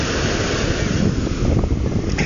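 Ocean waves wash onto a shore as a loud, continuous broadband roar and hiss, mixed with heavy wind rumble against the microphone, with no clear breaks.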